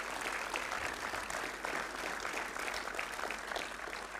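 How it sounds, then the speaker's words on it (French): An audience at an awards ceremony for an animation school gives continuous, even applause, a dense wash of clapping from a seated crowd with no speech over it. "Je vais les applaudir."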